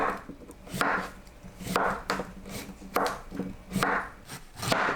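A knife chops cucumber into thick pieces on a cutting board, with rhythmic bursts of crunchy strokes about once a second, close and clear with no voices.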